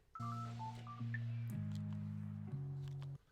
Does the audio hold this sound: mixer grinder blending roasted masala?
no